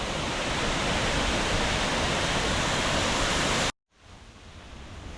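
Loud, dense rush of a stream in Idukki villages filling the scene, cutting out abruptly near the end before a quieter, thinner wash of water returns.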